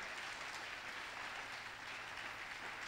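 A church congregation applauds God's power during a French-language sermon, a steady, dense crowd clapping that holds evenly for a few seconds without a break.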